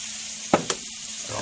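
Steak sauce sizzles on a hot plate while a ham, egg and cheese omelet cooks, a steady hiss broken by two sharp pops early on.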